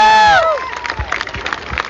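A live crowd at a windy outdoor futurecore show cheers and claps after a fading voice, scattered claps and shouts at moderate level, loosely spread.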